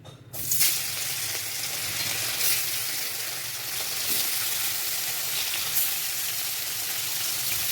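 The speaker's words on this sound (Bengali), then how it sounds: "সাদা তেল দিয়ে মাছগুলো আমি ভেজে নেব।" Snakehead fish pieces frying in hot oil in a wok, a steady close crackling sizzle that starts after a brief quiet moment and keeps an even level throughout.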